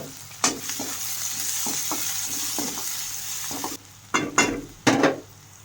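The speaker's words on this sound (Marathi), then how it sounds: "आता कांदा कापलेला आहे तो टाकून घेऊ, दोन कांदे कापले होते।" Chopped onions, two of them, frying and sizzling in a pan for a sprouted moth bean curry, with a steady sizzle and repeated clinks of a spoon stirring against the pan, growing louder near the end.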